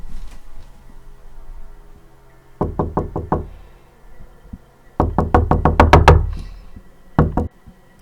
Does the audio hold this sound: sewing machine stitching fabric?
no